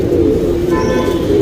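A blue-eyed pigeon from a long-endurance flying line coos in a low, soft, continuous murmur close by, with faint background sounds over it.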